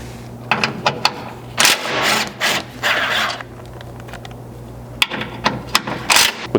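A power tool whirs in short bursts while removing the six skid plate fasteners on a Ford Maverick, with a steady hum underneath and several sharp clicks and clatters, close by.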